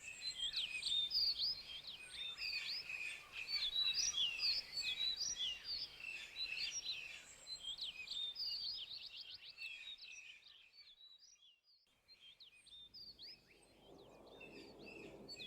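Several small birds chirp and twitter in quick bright bursts, fading away near the end as a soft rustle remains.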